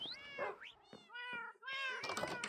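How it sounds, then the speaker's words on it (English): Several cats meowing together in Minecraft, a near-continuous chorus of overlapping meows, some rising and some falling, clear and close with no talk. "because there's so many of them, it's just a continuous meowing"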